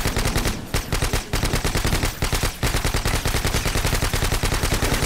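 Rapid automatic gunfire from a Call of Duty match rattles continuously and loudly, a dense stream of shots with a few brief gaps, nothing else heard over it.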